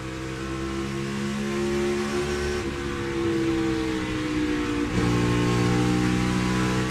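Loud, sustained engine roar from a NASCAR stock car on a qualifying lap at the Bristol night race, holding a steady high drone with small pitch drops near the middle as it rounds a turn, no talking.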